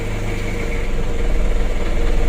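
A car with an overheating engine and radiator coolant spraying out is cranked on a long starter, a loud, steady mechanical drone that grows a bit rougher toward the end.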